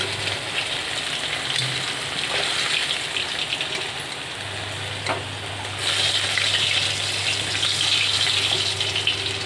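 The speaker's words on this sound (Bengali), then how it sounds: "এদিকে কথা বলতে বলতে মাছটা আমি ভেজে নিই" Fish frying in a pan, a continuous close hissing sizzle that swells louder partway through, with no voices.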